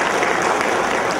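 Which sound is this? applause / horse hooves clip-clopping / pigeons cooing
applause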